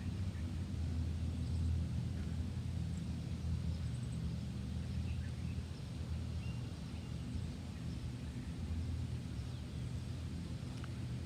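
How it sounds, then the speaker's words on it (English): Distant highway traffic heard from a quiet outdoor spot in nature, a faint, steady low whooshing rush that continues unbroken with no talk. "I can actually hear the rush, which sounds like a whooshing sound of traffic quite a ways away from here"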